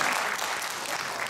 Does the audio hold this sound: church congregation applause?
yes